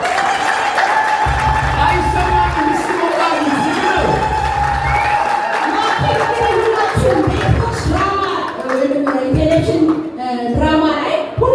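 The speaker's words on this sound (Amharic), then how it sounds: "ለማኪ በድጋሚ ታላቅ ጭብጨባ።" An audience at an Arada TV award ceremony claps and cheers for an honored guest, a dense, loud crowd roar with scattered whoops, while a host's voice speaks over it.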